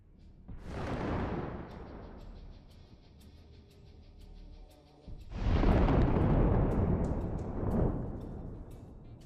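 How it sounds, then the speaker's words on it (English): An armored personnel carrier packed with explosives blows up in two heavy blasts, each a loud, deep boom that rolls out into a long fading rumble, the second larger and longer than the first. "What caused such a powerful explosion?"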